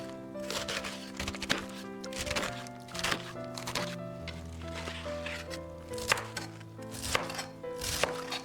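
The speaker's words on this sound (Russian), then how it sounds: "Молодую капусту нарезаем небольшим кубиком." A knife chops young cabbage into small cubes on a board with quick, crisp repeated strikes at an uneven rhythm, close and clear with light background clatter and no talking.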